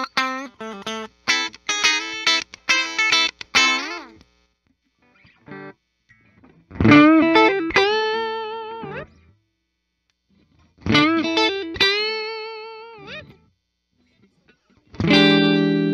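A 2010 Gibson Custom Shop Jimmy Page #2 electric guitar is heard through series-parallel pickup switching: rapid distorted strummed chords, then several ringing sustained chords with pauses between them, loud and close without voices.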